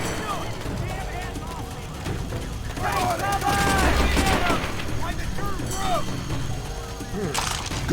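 A Thompson submachine gun fires in the World at War video game, heard as rapid bursts of close gunfire mixed with distant battle explosions while people talk.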